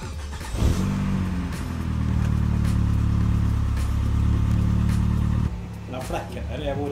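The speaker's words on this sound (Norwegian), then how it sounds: "nå skal jeg starte opp bil, og skal jeg kjøre oss en tur" A car engine catches and revs up loudly close by, holding a steady rumbling idle-rev for several seconds before dropping off abruptly, with some faint background noise.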